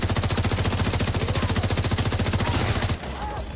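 Sustained automatic gunfire in The Division, a rapid, steady burst of closely spaced shots that runs loud and close for about three seconds before cutting off into quieter background sound.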